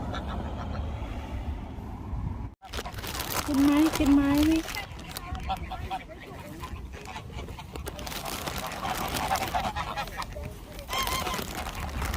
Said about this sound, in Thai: ถึงว่าไม่มีเป็ดขาวเลยไม่มีห่านขาวเลยวันนี้ มาอยู่ตรงนี้กันนี่เอง